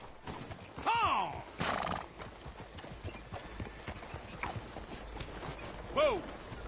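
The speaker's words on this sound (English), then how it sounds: "That's a fine horse you got there." A horse in Red Dead Redemption 2 whinnies several times over the steady clip-clop of hooves, the neighs sharp and prominent against soft background rustle.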